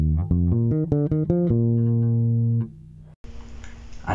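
A bass guitar plays a bass line: a run of plucked notes that settle into one long sustained tone, then a brief cut and a burst of noisy buzz.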